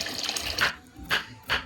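Boiled noodles are rinsed under water, heard as a few close, splashy bursts of pouring and swishing separated by brief quieter gaps.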